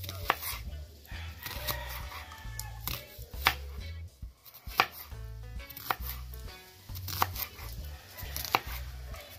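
Knife chopping vegetables such as bell pepper and onion on a board for Jamaican-style steamed fish, a steady run of close, firm chops with brief pauses.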